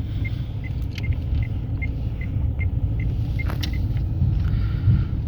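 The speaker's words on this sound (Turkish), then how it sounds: "Akşam trafiği yaklaşıyor abi baya" Steady low rumble of evening road traffic heard from nearby, cars passing continuously with a faint repeating beep or click on top, no voices.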